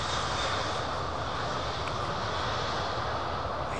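Dense, steady roar of CFM jet engines in reverse thrust on landing at Miami airport, a thick broadband rush with deep rumble, loud and unbroken throughout.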